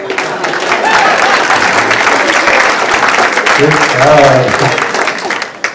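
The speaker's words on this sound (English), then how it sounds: "That's our first major applause" An audience applauds a magician's rope trick at a community comedy show, a steady wash of clapping that holds for several seconds while someone talks over it near the end.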